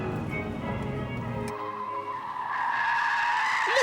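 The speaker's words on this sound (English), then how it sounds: "Just listen to the tyre squeal." An Audi TT slides around a test track, its tyres squealing into a rising, sustained screech over a loud engine note. There is a brief mechanical rumble first.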